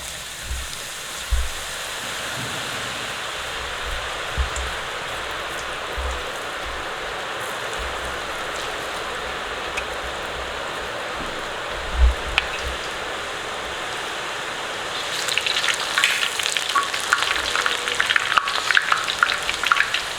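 Boondi batter drops into hot oil for boondi laddu, giving a steady rain-like fizzing sizzle that grows denser and more crackly toward the end, with occasional low knocks.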